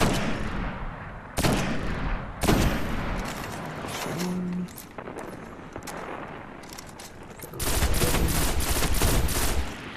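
Bursts of gunfire from a first-person shooter, Destiny, during the Winter's Run Nightfall strike against the Archon Priest, with repeated loud volleys and sustained rapid firing separated by short pauses, alone and close.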